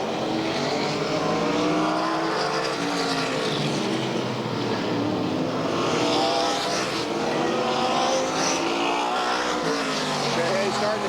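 Race cars roaring around the Ukiah Speedway oval during the Ben Chapman Memorial event, a steady dense blend of engines from the pack, loud and continuous, with a commentator talking over them throughout.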